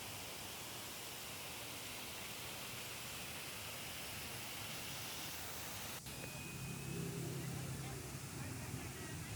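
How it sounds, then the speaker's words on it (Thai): Waterfall with drifting spray in a flower garden display at the Chiang Rai flower festival, producing a steady, broadband rush of falling water that runs continuously and swells slightly near the end. "โซนนี้เป็นโซนน้ำตกสวยๆนะครับ พร้อมกับ ละอองน้ำนะครับ"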